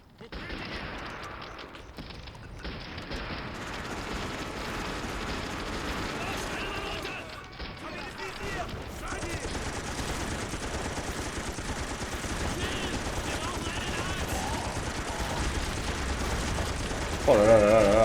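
Battle gunfire from the video game Sudden Strike 2 forms a dense continuous rattle of small-arms and machine-gun fire with mechanical clatter, steady and loud throughout, with a voice speaking over it at times.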